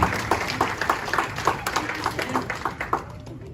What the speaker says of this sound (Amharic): እባካችሁ እንኳን ደህና መጣችሁ ባሏቸው እስቲ አጨብጭቡና